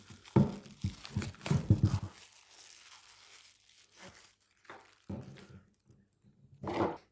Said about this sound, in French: Là, il n'y a pas le choix de déchirer.